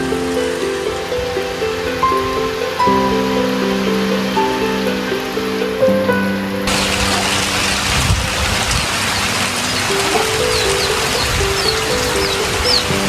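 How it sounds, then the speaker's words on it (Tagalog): Heavy rain pours on plants around a garden hut. The hiss is steady, then thickens into a louder, dense downpour halfway through, with sustained tonal sounds running underneath. "At grabe po ang ulan, hindi tayo makalabas para makapag vlog."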